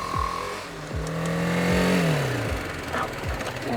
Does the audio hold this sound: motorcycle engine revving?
yes